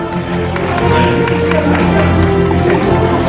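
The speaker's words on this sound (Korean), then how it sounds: "최종욱 회장님께도 큰 박수 부탁드리겠습니다" An audience at an award ceremony for racing models applauds with dense, steady clapping, close and continuous throughout the few seconds.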